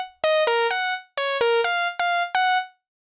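Lead Oak synth lead preset from Dune 2 plays a short melodic phrase of bright, buzzy sustained notes in a choppy rhythm, clear and up front with no voices.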